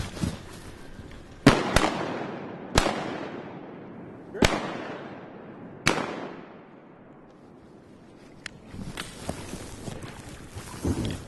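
Shotguns fire during a mallard duck hunt in South Arkansas, with five or so sharp, loud reports spaced a second or more apart, each followed by a fading echo. Quieter scuffling and faint sounds follow.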